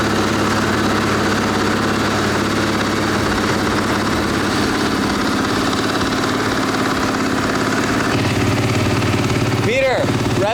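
A 2023 KTM 450 SMR supermoto engine runs loud and close at a steady idle, a continuous rough thrum that holds throughout.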